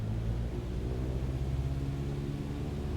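A small training aircraft's engine runs at full throttle for a takeoff roll down the runway, a loud, steady low-pitched roar with constant rumble filling the whole stretch and no voices.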